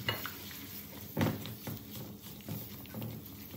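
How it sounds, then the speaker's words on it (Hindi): Semolina is roasted in ghee and stirred in a pan over medium heat, soft scraping strokes repeating over a faint sizzle, quiet and close. "इसको हम भून रहे हैं घी के अंदर।"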